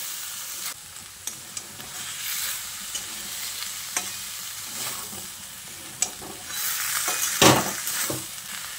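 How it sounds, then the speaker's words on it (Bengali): A soybean curry with fried potatoes is stirred in a hot pan, giving a continuous close sizzle with scattered clicks of the spoon and a louder scraping swirl near the end. "আলুগুলো দিয়ে আবারও সয়াবিনের সঙ্গে খুব ভালো করে নেড়ে চেড়ে মিশিয়ে নিতে হবে।"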